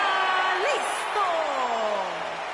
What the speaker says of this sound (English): the crowd is chanting for the Lucha Dragon